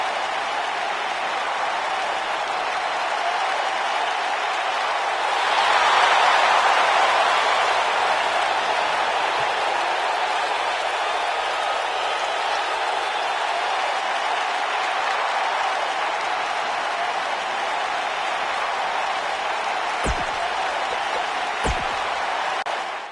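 Steady arena crowd applause and cheering in WWE 2K19 fills the whole stretch, broad and continuous, swelling briefly early on, with a couple of sharp thuds near the end.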